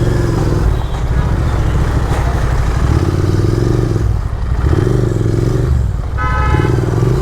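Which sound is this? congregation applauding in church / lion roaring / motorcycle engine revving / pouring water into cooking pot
motorcycle engine revving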